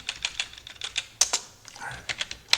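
Fingers type on a computer keyboard in quick, close, crisp clicks, spread in short bursts across a few seconds with small pauses between them.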